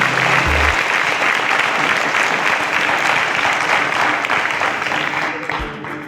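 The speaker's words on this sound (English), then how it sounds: "A round of applause for them as they exit the stage." Steady, dense applause from a large studio audience as contestants leave the stage on a talent competition show, holding full and loud for about six seconds before easing slightly at the end.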